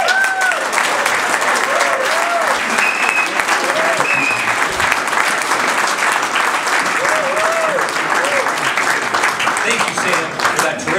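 Sustained, loud applause from an audience welcoming the mayor of Annapolis at an evening civic event, dense clapping throughout with crowd noise and some voices and cheers rising over it.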